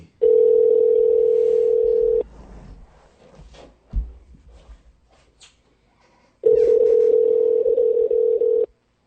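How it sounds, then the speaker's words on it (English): A telephone call rings out on the line as two long, steady ringback tones separated by a pause of several seconds, with faint handling noise and low background sounds in between. "It's ringing."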